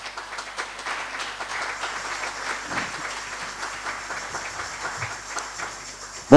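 A church congregation applauding, sustained dense clapping from many hands in a reverberant hall, steady and fairly loud, ending in a sudden louder burst.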